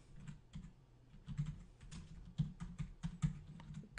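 Fast typing on a computer keyboard during network configuration work, with irregular bursts of clicking keystrokes close up and no speech.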